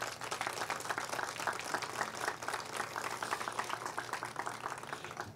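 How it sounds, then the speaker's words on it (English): Outdoor crowd applause at a groundbreaking ceremony for Pikeville Commons, continuous and evenly dense from start to finish, fairly distant and soft, with no talk over it. "they deserve a real strong round of applause for what they've done"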